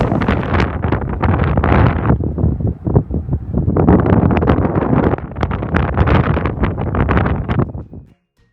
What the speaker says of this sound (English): the wind was so strong, it scared me